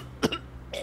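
Two short raspy coughs from a character in a GTA V roleplay after smoking, a quick pair followed by a softer throat-clearing rasp, close and fairly quiet.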